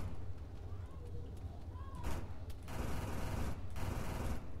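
Distant rapid gunfire in a video game, sustained bursts rising over a constant noisy background as voices talk nearby.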